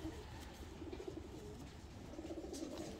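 A checker hen racing pigeon coos softly and repeatedly, two low rolling phrases close by over a gentle background hum, with no talk.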